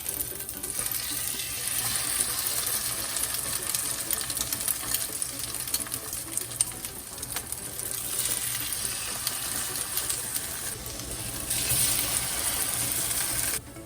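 Egg-soaked bread for French toast lands in a hot pan and sizzles steadily, a broad continuous frying hiss that holds for many seconds, loud and close with no speech.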